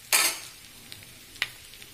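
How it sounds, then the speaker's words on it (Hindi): Chickpeas for chhole frying in a pan, with a sharp stir-and-sizzle burst at the start and a second brief clatter of stirring near the end over quiet background. "छोले को फ्राई होते हुए 5 मिनट हो गया है और ये कितना अच्छे से फ्राई हो गया है।"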